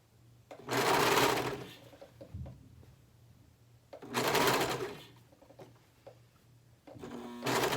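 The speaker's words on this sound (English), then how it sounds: "we're going to start sewing all 3 layers together for about 4 inches" A sewing machine stitches through three layers of an Eden shirt in two long loud runs of steady whirring, with quiet pauses between and a third run starting at the end.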